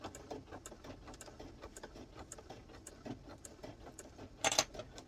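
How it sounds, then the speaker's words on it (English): A sewing machine stitches a paper envelope for a junk journal in rapid, even mechanical bursts, fairly quiet and close, with a brief louder clatter near the end. "You could do a zigzag stitch here."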